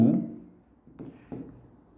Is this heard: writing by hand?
yes